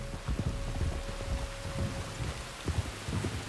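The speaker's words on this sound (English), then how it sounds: "You were right about the damn rain." Steady rain falls in the video game Red Dead Redemption 2 with a low rumble of thunder underneath, a dense, hissing wash of sound at moderate volume.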